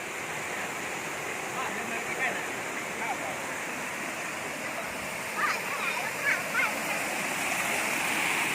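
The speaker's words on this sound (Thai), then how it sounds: "น้ำตกเย็นดี" Huai Tat Ban Pao waterfall roars in a steady, loud broadband rush of falling water close by, with a few brief splashes and faint voices passing over the constant flow.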